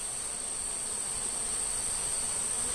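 Honeybees in an open hive with rectangular comb, a dense continuous buzzing drone, steady and close with no pauses or voices.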